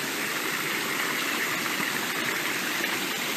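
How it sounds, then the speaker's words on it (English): A waterfall seen from above on a short trail near a parking lot, with smaller falls at the top, roars in a steady broadband rush that stays even and constant throughout. "So we're looking down at the waterfall now."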